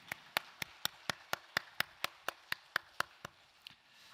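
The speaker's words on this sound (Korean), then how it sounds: "영광의 박수 올려드리겠습니다." A church congregation at a Sunday service claps in a quick, even rhythm, about sixteen crisp synchronized claps that stop abruptly after a few seconds.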